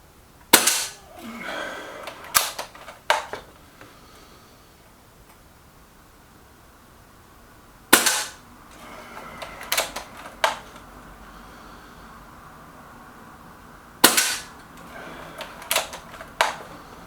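A Reximex Regime air rifle firing JSB Jumbo Exact pellets gives three sharp, loud cracks spaced several seconds apart, each followed by quick mechanical clicks of cocking and loading, with no talk.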